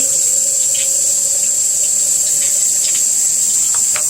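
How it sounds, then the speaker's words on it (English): Water running and splashing steadily during a shower, poured from a cup to rinse a child's hair, a continuous close hiss with no voices. "So I lower him back and I have a cup that I fill with water."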